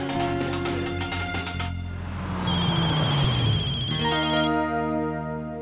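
A telephone ringtone plays loud and steady in a domestic scene, a repeating electronic melody with bright tonal bursts that runs the full length without any voices.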